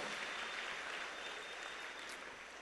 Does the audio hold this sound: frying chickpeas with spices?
no